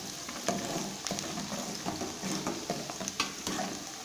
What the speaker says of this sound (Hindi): ये पहले इसमें डालेंगे और इनको चम्मच के ज़रिए अभी मिक्स करेंगे